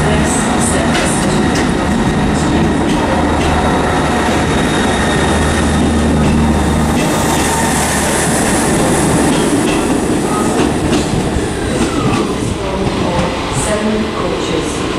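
ScotRail Class 158 diesel train at Edinburgh Waverley station, a steady loud engine rumble and rolling rail noise filling the platform throughout, with faint station ambience and a possible distant announcement underneath.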